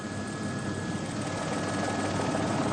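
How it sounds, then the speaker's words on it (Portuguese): Military Police helicopter hovering over a plane crash site in the Serra da Cantareira forest, São Paulo, a loud, steady rotor-and-engine roar that stays constant throughout with no talk. "Nesse momento, o helicóptero da Polícia Militar começa a retirar os corpos."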